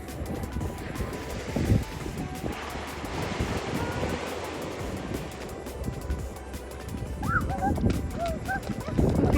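Gentle waves wash onto a beach at Salalah in a continuous, soft surf roar, mixed with gusty wind noise and a few brief high chirps near the end.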